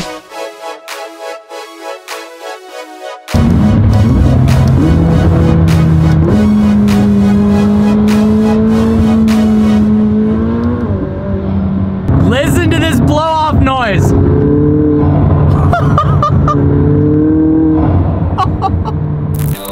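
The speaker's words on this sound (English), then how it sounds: "The roof scoop induction noise is absolutely ridiculous." McLaren 600LT supercar with a roof scoop, its induction roar loud and close as it drives, rising and falling through gear changes, with a strange warbling tone partway through.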